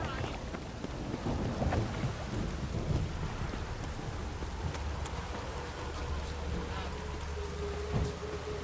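Steady rain with rumbling thunder from a stormy scene in the video game The Witcher 3, a continuous wet wash with low booming rolls throughout and a faint voice now and then.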